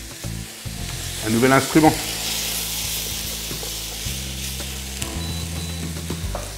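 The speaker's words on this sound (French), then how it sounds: "Et après, on rajoute le lard." Bacon lardons sizzle and fry in a pan for rabbit chasseur, a steady close crackle with a brief louder burst of stirring near the start, over a low background hum.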